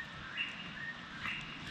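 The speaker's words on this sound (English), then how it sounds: "And this bird is going crazy behind us." A bird calls outdoors beside a river in the Linville Gorge while camping in the rain, brief shrill chirps rising above steady background noise of water and rain, fairly faint.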